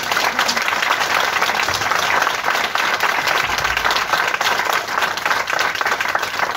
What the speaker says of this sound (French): Je crois qu'elle mérite d'être applaudie plus que vous l'avez fait.